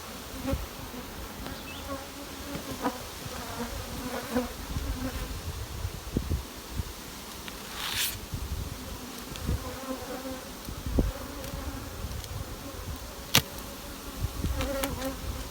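Dense, steady buzzing of many honey bees at the hive close by, with occasional louder passes as individual bees fly near.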